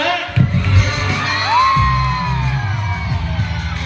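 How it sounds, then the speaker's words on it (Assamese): Audience at a magic show cheers and whoops loudly, with shouting children and a rising whistle-like yell over a crowd roar. The noise stays dense and close throughout. "নিজৰ বাবে হাত চাপৰি আৰু চিঞৰ এটা"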